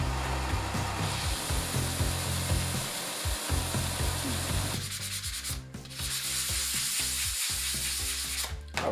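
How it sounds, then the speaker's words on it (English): Continuous abrasive sanding of hardened epoxy sculpt built up on a Rubik's cube puzzle, a steady close rubbing scrape with brief pauses and strokes changing pace, no talking. "You pile on the epoxy sculpt and then you sand it down."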